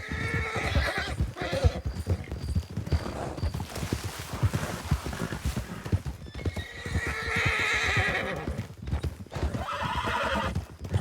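A horse in a Wild West roleplay game whinnies repeatedly while its hooves clip-clop steadily at a walk, loud and close, with rhythmic hoofbeats running throughout and no talking.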